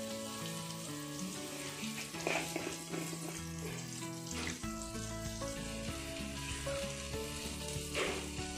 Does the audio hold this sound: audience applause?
no